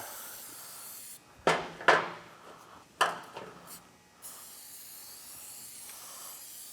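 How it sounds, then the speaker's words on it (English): Several short hissing bursts of oil sprayed onto a 2015 Kawasaki Vulcan 1700 Vaquero air filter, close by, a few seconds apart, over a faint steady background hum. "so now we can get it coated down with some oil. Alright, you spray it"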